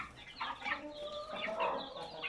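Several Gurk chicken chicks chirp and peep in overlapping calls, a busy, high-pitched chatter that continues steadily throughout.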